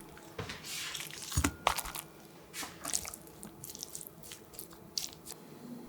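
Soaked, squeezed kimchi is torn apart by hand, with soft, wet squishing and tearing sounds in irregular bursts, heard close and quiet, with no talk.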